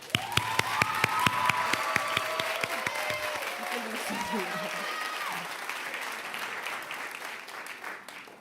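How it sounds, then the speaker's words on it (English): Commencement crowd applauding high school graduates, sustained clapping and some cheering from a large audience, with loud rhythmic claps near the start and a voice speaking over the applause partway through. "So please clap it up for them again"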